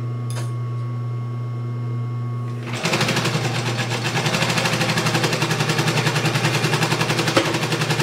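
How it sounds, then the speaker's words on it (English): A sewing machine stitches the bottoms of leather card slots on a clutch wallet. A low motor hum starts it, then a steady, loud, rapid needle chatter runs close up for several seconds without talk. "I'm sewing the bottoms of the card slots together."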